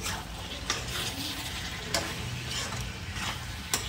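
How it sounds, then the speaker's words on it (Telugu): Chicken is stirred through cumin and coriander spice powders in a pan for a biryani, a steady close scraping and sizzling with a few sharper utensil knocks against the pan, no voices. "ఒకసారి పొడులన్నీ వేసాక మనం కలిపిసుకుందాము"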